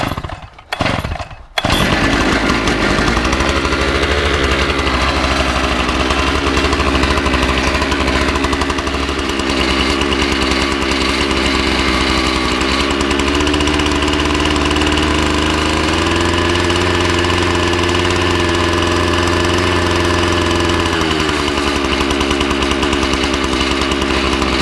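A two-stroke gas engine on a 7-ton kinetic log splitter starts with a couple of pulls, then runs loudly and steadily up close, with its pitch shifting slightly partway through.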